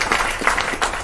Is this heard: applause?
yes